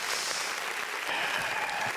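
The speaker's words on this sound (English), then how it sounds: "Let's get some applause there again." Applause during a webinar on brand storytelling, a short, steady stretch of clapping that fills the whole moment at an even level.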